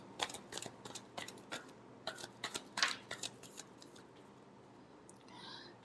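A deck of tarot cards is shuffled in a series of quick, crisp riffling bursts close by, then it trails off into quieter handling with no talking.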